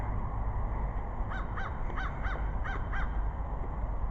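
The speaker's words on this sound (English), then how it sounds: "And crows. You can hear one way off to my right." A crow caws repeatedly in a steady series, distant and faint over constant traffic rumble in a park.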